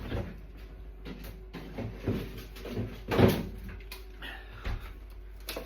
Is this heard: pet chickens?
no